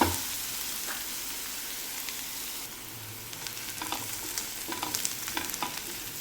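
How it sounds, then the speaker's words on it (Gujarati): Onions sautéing in a pan for paneer bhurji, a steady soft sizzle with scrapes and clinks of stirring, close and moderately quiet, no talking. "આપણી ડુંગળી ખૂબ સરસ રીતના સંતળાઈ રહી છે।"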